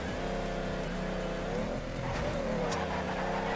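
Nissan GT-R engine in the racing game Torque Drift, revving hard and steady with rising and shifting pitch as it climbs through gears, loud and close with no talk over it.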